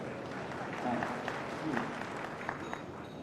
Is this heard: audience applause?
yes